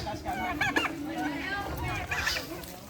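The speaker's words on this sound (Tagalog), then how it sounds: "So yan po sa loob, mayroon po yung manok." Chickens inside a coop in rainy weather cluck and call close by, a few short bursts of clucking and squawks over a low background, fairly faint.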